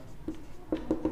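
A pen scratching out a few short strokes on paper, close and quiet, during a Class 10 maths lesson.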